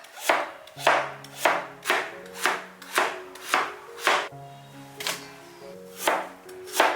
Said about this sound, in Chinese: 萝卜刨去皮后切成薄片，先对半切开。 切得越薄越好。